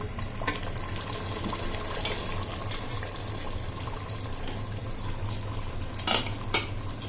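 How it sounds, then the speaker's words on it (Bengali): Beef dropped into fried spice masala for a Bangladeshi beef shahi biryani, a steady sizzle with stirring scrapes and a few sharper clatters, close and continuous without talking. "মশলার মধ্যে আমরা এখন বিফটা দিয়ে দিব"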